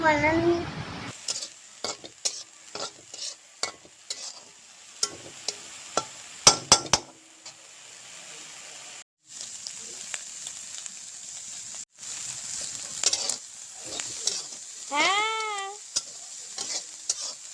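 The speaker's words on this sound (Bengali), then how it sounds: "আমি তেল দিয়েই ভাজেছি" Dried shrimp frying in oil in a pan for a shutki bharta: a steady close sizzle broken by repeated clinks and scrapes of the spatula as it stirs, with a short louder burst of sizzling partway through.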